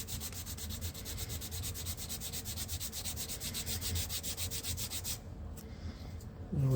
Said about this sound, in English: So those are some of the things you can do with these sanding tools.